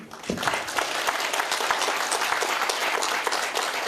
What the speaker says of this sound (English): It's just to give you a round of big applause.